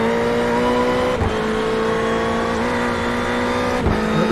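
An Audi race car in iRacing holds a steady, loud engine drone with a sustained high tonal whine, briefly dipping twice as if shifting or lifting, heard close and continuous.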